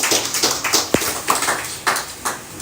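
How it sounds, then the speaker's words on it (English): A group of people at a coaches' seminar clap for themselves, a loose scattered round of handclaps with uneven rhythm, fairly close and filling the short moment. "Can we clap for ourselves?"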